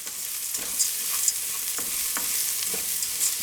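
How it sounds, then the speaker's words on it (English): Roni rice frying aggressively in a hot pan, a loud continuous sizzle with occasional scraping stirs, no voices. "we're going to look for that sound again, that aggressive sort of frying"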